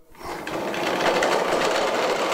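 A portable coal forge's hand-cranked geared blower, 1 to 48 ratio like a Champion 400, whirs up quickly into a loud, continuous mechanical roar that holds steady close by.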